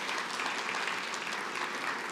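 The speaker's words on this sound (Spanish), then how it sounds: "Fuerte el aplauso para la magistrada." Audience applause for a visiting magistrate from Peru at a conference in Panama: steady, dense clapping from a crowd, moderately distant and even throughout.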